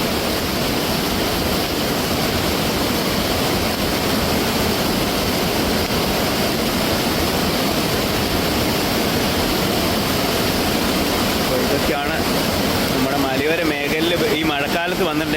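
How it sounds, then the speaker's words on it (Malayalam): Loud, steady roar of rushing floodwater overflowing its banks fills the whole clip, broad and continuous like a swollen torrent, with faint voices emerging near the end. "വെള്ളം കൂടി വരികയാണ്"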